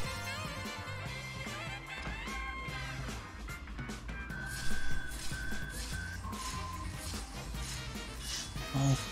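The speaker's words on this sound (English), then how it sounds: "Oh god, that whistling part." Melodic whistling rides over upbeat background music in the Mario & Sonic at the Sochi 2014 Olympic Winter Games video game, clear sustained notes with a few louder bursts and no talk.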